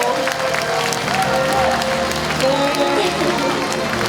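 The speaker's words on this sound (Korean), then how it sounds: "손병복 울진 군수님께 다시 한번 큰 감사와 응원의 박수 부탁드리겠습니다." At a hope-themed talk concert for Uljin county residents, a crowd applauds the county governor with continuous, dense clapping that carries a murmur of voices and a low hum beneath it.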